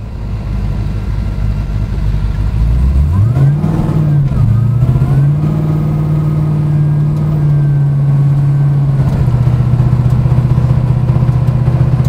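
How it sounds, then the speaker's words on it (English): A deep supercharged V8 car engine with Dynomax mufflers revs up from a low rumble to a higher steady drone, holding loud and close before dropping slightly, with no talking. "this has a Magnuson supercharger and it made 805 horsepower on the dyno"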